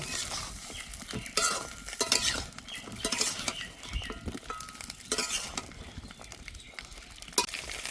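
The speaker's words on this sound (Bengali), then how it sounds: "তেলটা গরম করে নিয়েছি, এইবার পটলগুলো দিয়ে দেব।" Pointed gourds fry in hot oil in a wok, with a spatula stirring and scraping against the pan through a steady sizzle, broken by sharp clinks and louder bursts of crackle.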